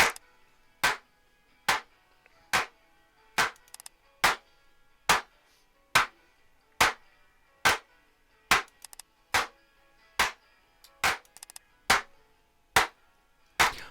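Dry clap samples in a mix, unprocessed, striking in a steady rhythm of about sixteen sharp hits, each crisp and isolated against near silence.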